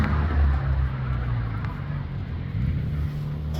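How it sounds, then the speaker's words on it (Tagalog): A loud vehicle exhaust rumbles close by on a street near a bus stop, a heavy low droning engine roar that holds steady throughout, with faint talk. "Grabe namang ingay ng kanyang tambutso"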